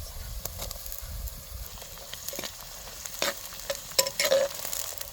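Tomatoes drop into a sizzling dried bombil fish curry, giving a dense, steady frying hiss with a few louder crackles and stirring clatters near the end. Nobody speaks.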